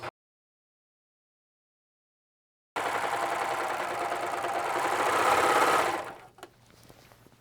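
After a silent stretch, a sewing machine stitches a pillowcase corner seam with a fast, steady mechanical whirr, running loud for about three seconds before slowing and stopping, followed by a few small clicks.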